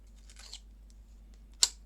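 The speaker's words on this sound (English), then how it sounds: "cut the insulation" Insulation wrap on a DeWALT battery pack is cut: a soft rustle, then one sharp, crisp snip near the end, quiet and close with no talk.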